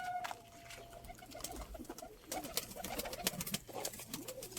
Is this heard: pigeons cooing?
yes